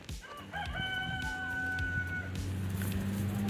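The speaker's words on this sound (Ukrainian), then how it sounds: "Півники кукурікують." Several roosters crow one after another, loud and close, with clucking hens and farmyard noise underneath.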